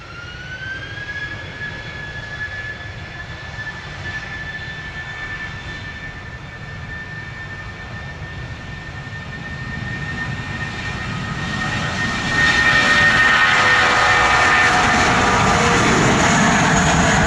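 A JetBlue jet airliner taking off from runway 07 in Jamaica, its steady engine roar and high whine building and growing louder toward the end, with no talk.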